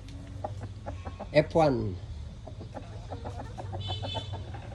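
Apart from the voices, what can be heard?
Rhode Island Red chickens clucking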